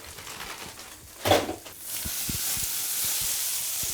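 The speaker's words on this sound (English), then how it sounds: "So the bacon's coming on nice." Bacon sizzles and hisses in a hot pan, softly at first, then swelling into a steady, loud frying crackle with small pops.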